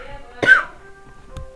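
A single short, sharp cough sounds close by in a quiet room, followed moments later by a softer throaty sound.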